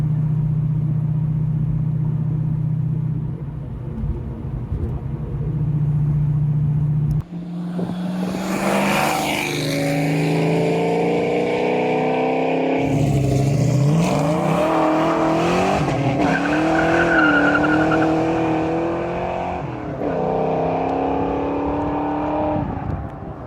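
A Fox Body Mustang fitted with a FlowMaster exhaust drives at 55 mph, its loud, rumbling exhaust note rising and shifting in pitch through gear changes, close and continuous.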